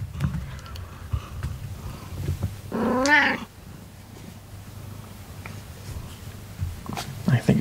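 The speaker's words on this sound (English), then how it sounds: "Here comes my cat to inspect the figure." A pet cat moves around a JoyToy Warhammer 40,000 action figure and gives one short, wavering meow midway, amid soft rustling and a quiet voice talking close by.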